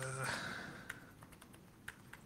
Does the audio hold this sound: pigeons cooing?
no